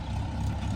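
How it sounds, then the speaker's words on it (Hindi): A tractor arriving to load soil on a farm, a brief low engine rumble heard steadily at moderate distance. "अभी फिर लेने के लिए ट्रैक्टर आ चुका है"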